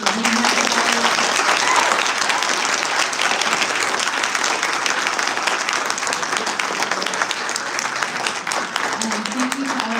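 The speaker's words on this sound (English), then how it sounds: "Can we give one last round of applause for all of our candidates for being here today?" At a candidate forum for Illinois' 7th Congressional District, an audience gives a steady, loud round of applause for the candidates, continuous throughout with faint voices mixed underneath.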